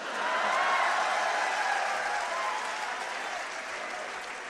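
At a Hindi comedy and poetry show, an audience applauds in a steady, dense wash of clapping at moderate distance that swells early and then slowly fades, with no voices over it.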